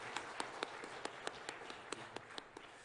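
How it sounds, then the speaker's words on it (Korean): Sparse, distinct hand claps from a church congregation welcoming a new member during Sunday worship, around a dozen separate sharp claps spread irregularly over a quiet background. "우리 박수로 환영하시겠습니다"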